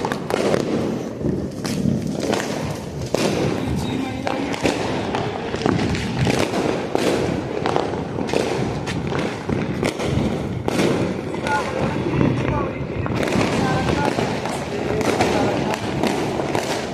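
Dense, continuous crackling bursts of Diwali firecrackers going off in rapid succession, loud and close, with occasional deeper thumps and voices faintly mixed in.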